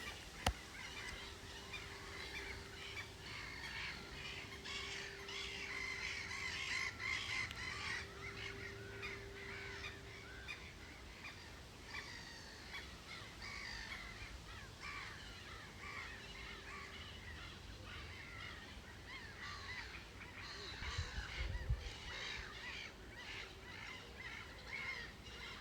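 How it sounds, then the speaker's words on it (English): Geese honking and crows cawing outdoors at a distance, with a steady wash of background ambience and a low rumble near the end; no one talks. "And a nice close-up of the birds once again."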